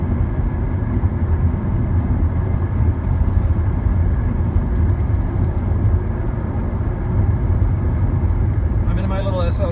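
Steady, loud road rumble and engine drone from inside a Mercedes SLK sports car, a noisy, rough-riding small roadster, cruising continuously at a constant level with no gaps.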